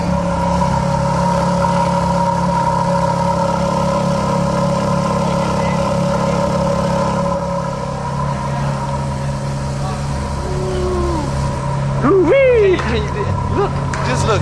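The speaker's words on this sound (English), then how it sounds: "We got a Ferrari right here taking off. They revving the engines up, getting them warm." Ferrari engines revving up and pulling away at a car show rollout, a loud sustained drone with rising rev sweeps near the end, while someone talks over it.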